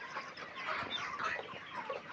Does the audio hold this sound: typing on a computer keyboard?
no